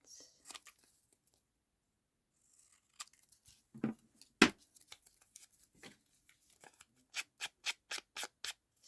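Scissors snipping fabric and paper bits, scattered quiet cuts and rustles early on, then a crisp run of six or so evenly spaced snips at the end, close and soft with no talking.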